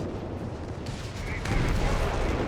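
Mortar and artillery fire in Company of Heroes 3, a World War II strategy game, sounding as dull, rumbling bursts that strengthen partway through, mixed with a dense battle backdrop under a commentator's voice.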